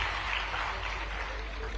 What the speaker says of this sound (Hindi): एक बार जोरदार तालियां अपने अभिनंदन स्वागत में भी देवी और सज्जनों